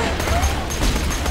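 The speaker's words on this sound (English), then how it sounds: "Oh, I forgot this thing's burst fire" A burst-fire gun in Borderlands 2 rattling off a dense, loud stretch of rapid shots with booming low end, continuous through the moment.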